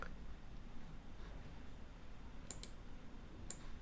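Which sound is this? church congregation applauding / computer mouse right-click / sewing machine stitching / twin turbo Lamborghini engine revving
computer mouse right-click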